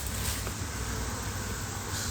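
A steady, dense buzz of many bees swarming around an agitated beehive, continuous and close, with no voices.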